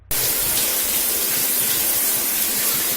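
A shower sprays steadily, a dense, loud, unbroken hiss of falling water that starts abruptly and continues at a constant level, close by, with no voices.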